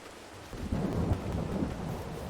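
A thunderstorm in Farming Simulator 22 brings a low rumble of thunder that swells after a quiet start over a steady hiss of falling rain, with no voices.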